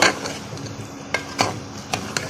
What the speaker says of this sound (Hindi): तूरी डालने के बाद इसको हिलाएंगे।